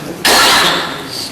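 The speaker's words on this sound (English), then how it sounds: "Excuse me for a cough." A single sharp, loud cough from a man during an interview, bursting out abruptly and tailing off over about a second, with no other sound around it.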